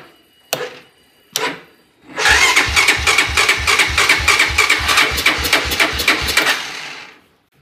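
A four-wheeler ATV engine, started without choke, gets two short cranking pulls, then catches and runs with a loud, rough, rhythmic chugging for about five seconds before cutting out.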